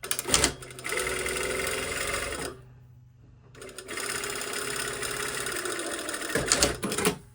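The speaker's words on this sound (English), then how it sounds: "I'm just going to sew with my 1 centimeter seam allowance or 3/8 of an inch" A sewing machine runs a slash pocket seam in two long bursts of rapid, even stitching, separated by a pause of near silence, with clunks at the start and finish.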